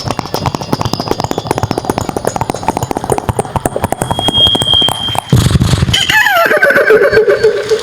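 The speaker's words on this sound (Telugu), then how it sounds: "సో గుర్రం వెళ్తుంది అనుకోండి" A horse trotting sound effect: loud, evenly spaced clip-clop hoofbeats repeat quickly for about five seconds before giving way to a different, louder sustained sound at the end.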